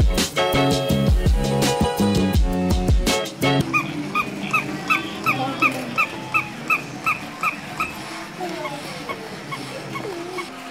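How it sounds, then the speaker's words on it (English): After a burst of loud music, a small mechanical toy dog yips in a quick repeated rhythm, its high whimpering barks going on and on. "How irritating would that dog noise be after like 2 minutes?"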